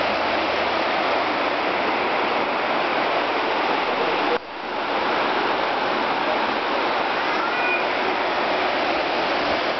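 A flowing river gives a continuous, broad rushing noise with a brief dip about midway, steady and fairly loud throughout with no voices.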